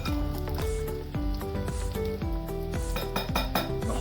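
Aleppo mushabak pastry frying in oil is moved with metal utensils into a strainer, giving repeated close clinks and scrapes against the pan over a soft sizzle.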